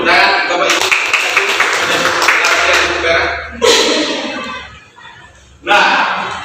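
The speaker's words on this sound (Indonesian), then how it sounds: "Tepuk tangan Bapak Ibu." Parents and teachers applaud at a school dissemination session at a high school, giving bursts of clapping close by that fade and then start up again twice.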